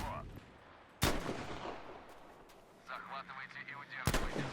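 Two sharp, booming gunshots from the video game Battlefield 5 ring out a few seconds apart, with someone talking quietly between them.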